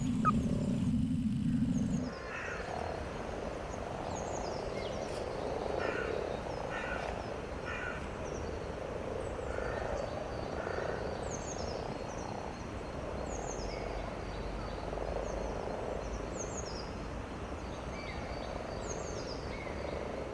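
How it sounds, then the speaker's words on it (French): Frogs and toads croak in a chorus in a preserved patch of woodland, repeated faint calls and trills scattered over a quiet, steady background, no talk. "Après le passage de ces milliers de grenouilles et de crapauds"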